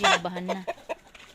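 Rhode Island Red chickens cluck in a short burst close by, a loud rising call followed by a few softer clucks as a person speaks briefly.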